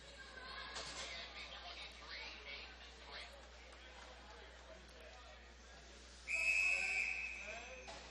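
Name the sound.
referee whistle at women's ice hockey game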